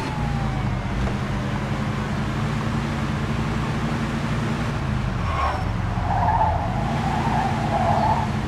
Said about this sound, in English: Pursuit of a speeding vehicle.